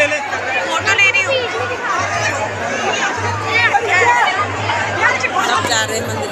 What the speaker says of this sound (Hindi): आज बहुत ही ज़्यादा भीड़ है यहाँ पे